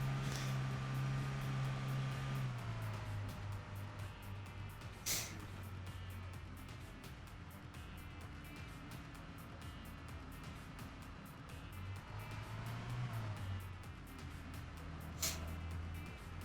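A car engine in the video game Arma 3 on the Tanoa map hums steadily, with its pitch sliding as the revs shift twice and a couple of sharp knocks along the way.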